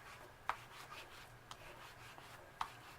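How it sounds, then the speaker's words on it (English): A credit card scraping lines into thick paint gives a faint, steady rubbing rasp, broken by a few sharp ticks as the edge catches. "I can start gouging into my thick paint here, make lines so you can see underneath there"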